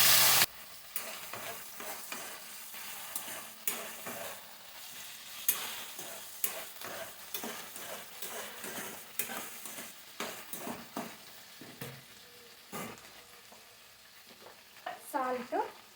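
Chukka leaves frying in hot oil for pachadi, a continuous soft sizzle broken by repeated stirring scrapes and utensil knocks against the pan, close and fairly quiet, with no talk.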